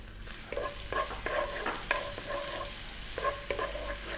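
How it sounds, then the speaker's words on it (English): Garlic sizzles and spits in hot corn oil in a wok, a steady close frying hiss with repeated bursts of crackle and stirring, no voices over it. "We're going to start off by dropping in the garlic."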